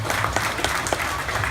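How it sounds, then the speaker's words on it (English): Audience applause breaks out at a live alligator show, a steady wash of many hands clapping close by with a few sharper claps standing out, lasting the whole moment without talk. "Give that guy a round of applause"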